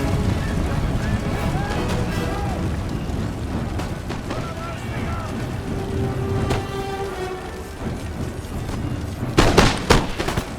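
Musket volleys crackle through an Empire: Total War fortification assault, scattered shots and a dense burst of gunfire near the end over a continuous battle din.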